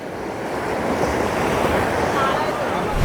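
Sea waves roll and wash steadily onto Kasheli Devghali Beach in Ratnagiri at high tide, a broad continuous roar with some wind noise buffeting the microphone.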